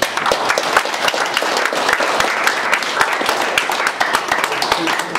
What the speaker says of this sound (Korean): 우선 박수 먼저.